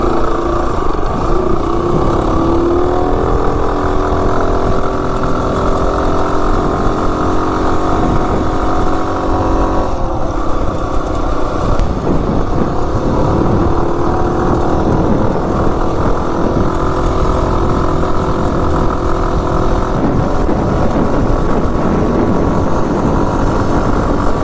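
A Coleman minibike with a Predator 224 engine and swapped cylinder head runs at speed, its loud, steady engine drone continuous and close for the whole stretch.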